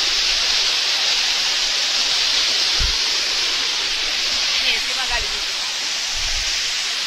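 Water pours steadily down the Arbi Falls cascade in a dense, continuous roar. It fills the whole stretch at high volume, with a few faint low thumps beneath it.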